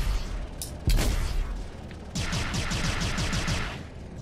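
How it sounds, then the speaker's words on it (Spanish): Bursts of rapid, rattling laser-like spaceship gunfire from Hornet fighters in Star Citizen Arena Commander, with a heavy impact in between, then a sustained stream of fast repeated shots. "esos disparos vienen de los dos Hornet que me acompañan"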